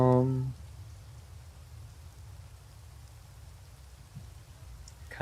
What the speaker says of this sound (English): Kind of sounds like rain